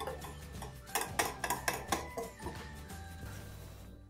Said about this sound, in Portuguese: Eu aqui estou usando o fouet.